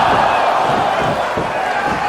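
Arena crowd in WWE 2K25 roars continuously at close range, a loud, dense wash of cheering with faint thuds underneath.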